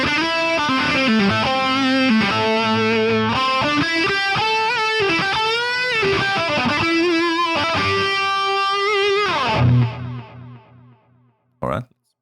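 Electric guitar running through the Amplitube 5 amp simulator with an echo effect, playing a steady melodic line with sustained, repeating notes that trail off near the end, loud and alone.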